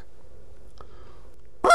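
Goose flute call shifting from a low cluck to a high cluck, a single short, sharp honking note that bursts out loudly and close after near silence.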